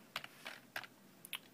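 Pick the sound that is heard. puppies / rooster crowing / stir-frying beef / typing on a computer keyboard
typing on a computer keyboard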